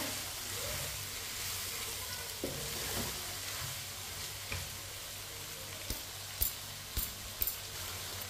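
Steady sizzling of potatoes frying in a pan for aloo gobhi, with occasional scraping and clinks of a utensil stirring toward the end.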